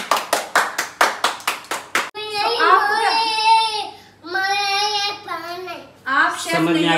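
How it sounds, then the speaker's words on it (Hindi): Two kitchen assistants in a hotel kitchen clap their hands, about ten sharp, evenly spaced claps over two seconds, before voices take over and talk and call out for the rest. "ये तालियां क्लैपिंग।"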